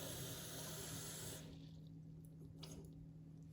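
Water pours into a sourdough starter for about a second and a half, a steady faint rush that fades into quiet trickling and small drips.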